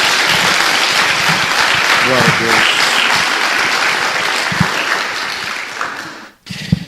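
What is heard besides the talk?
congregation applause for Jesus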